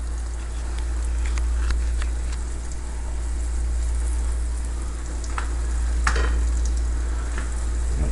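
Beef liver fries in a hot cast iron pan, giving a continuous close sizzle with scattered crackles and pops over a low steady hum.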